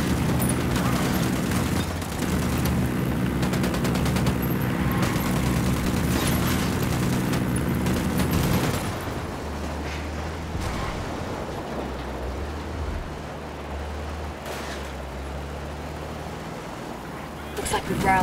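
Gunfire in the Ghost Recon Wildlands video game rattles as dense, sustained volleys with booming impacts, loud at first and then thinning into sporadic shots and rumble, while voices talk over it.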